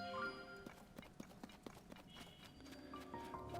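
Horse hooves clip-clopping at a steady gait while riding through the underground in the video game Tears of the Kingdom, a clear series of hoof strikes with a brief whinny over game music.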